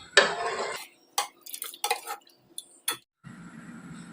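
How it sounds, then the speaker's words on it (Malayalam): A spoon scrapes and stirs lentil payasam inside a metal pot in several short bursts, with brief clinks between strokes and quiet gaps. "നല്ലോണം നമുക്ക് ഇളക്കി കൊടുക്കാം"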